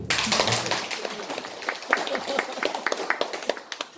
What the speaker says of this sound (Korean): 박수 좀 치세요.